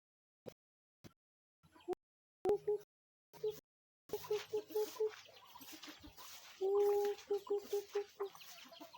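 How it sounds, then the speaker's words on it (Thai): Fighting-breed chickens at a rural Thai homestead give repeated clucks and short, tonal calls at close range. Sharp knocks come first, then the clucking runs on amid background activity and some voices. "เป็นไก่ส้นครับผม"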